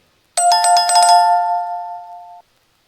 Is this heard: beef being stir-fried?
no